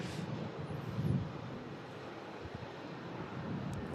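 An airliner arriving at Manchester Airport from Alicante, heard as a steady, broad, distant roar with wind buffeting, and no talk.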